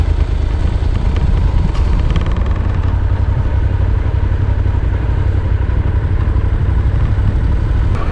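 Heavy motorcycle cruising on the open road toward Joshua Tree, its engine a steady, loud, continuous drone with wind rumble throughout and no talking.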